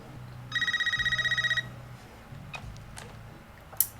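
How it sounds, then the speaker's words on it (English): Telephone ringing in the horror movie Scream (2022), a single bright electronic trill lasting about a second, followed by quiet room tone and faint clicks. "Hey, phone ringing, guys."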